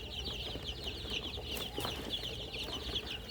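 Chicks four to five days old peep continuously in a brooder pen, a dense, steady chorus of high chirps layered close together with no voices over it.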